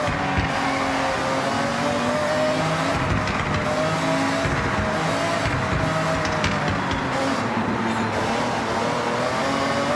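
A rally car races in the Forza Horizon 6 video game, its engine droning loudly and continuously with tire noise, shifting pitch as it accelerates and turns.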